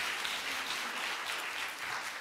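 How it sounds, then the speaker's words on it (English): Steady audience applause fills a convention hall at an English-teaching conference, dense, even clapping from many hands with no talk over it. "can we have a round of applause for Sylvia Guinan?"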